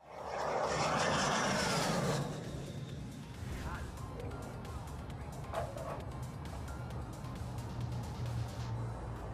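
A Rolls-Royce Allison 250 gas turbine engine on an MTT Y2K Turbine Superbike roars loudly for about two seconds, then settles into a steady, sustained whine and rumble that continues to the end.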